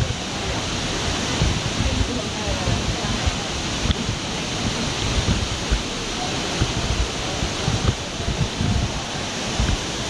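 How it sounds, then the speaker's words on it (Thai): A waterfall at Zhangjiajie, China, roaring in a loud, continuous broadband wash that stays close and steady throughout, with faint voices underneath. "น้ำตกอลังการมาก"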